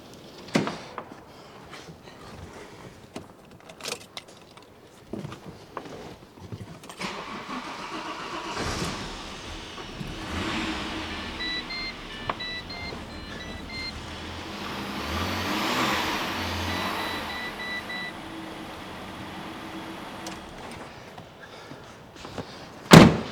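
A 2003 Holden VY Storm ute, under collision repair, starts up after several knocks and clunks, then its engine settles into a running idle that swells mid-clip before a final loud thump.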